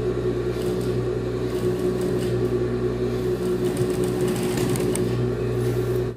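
Sewing machine stitching a bra alteration, a steady close motor hum with rapid needle chatter running continuously throughout.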